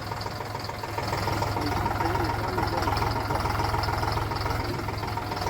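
A tractor engine idles nearby with a steady low, chugging rumble that grows a little louder after the first second.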